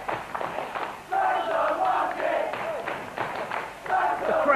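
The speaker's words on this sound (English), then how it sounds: "The crowd getting right on Mark Sloan's back, calling him a monkey." A wrestling crowd at an FWA Frontier Wrestling show jeers and chants at wrestler Mark Sloan during his match with Ghosh, a loud, continuous mass of voices with rising shouts and scattered thumps.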